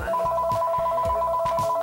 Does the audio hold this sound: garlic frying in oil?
no